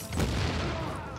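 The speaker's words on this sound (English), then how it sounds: "just lob a sticky grenade up there" A sticky grenade going off in the shooter game The Division: a dull, broad explosive boom that rolls out and lingers with rumbling noise for about a second.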